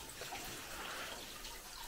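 Water trickles out of a pipe in a derelict building, left running from a central water supply that was not fully shut off: a steady, hissing, broadband flow, fairly close and unbroken throughout.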